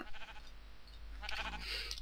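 A Minecraft sheep gives a couple of short, nasal bleats over a faint low game hum, fairly quiet with no talking.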